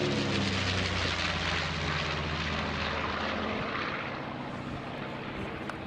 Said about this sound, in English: The aircraft was termed as a medium bomber, although the bomb load was not that dissimilar to B-17.